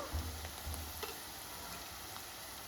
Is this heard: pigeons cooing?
no